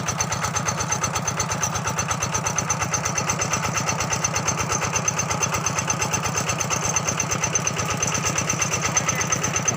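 An engine-driven naga-style water pump pulls water from a pond, its motor chugging loud and close in a rapid, even pulse that holds steady throughout, with no voices.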